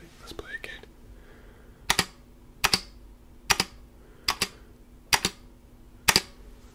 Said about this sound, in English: tell me how many times you hear my space bar click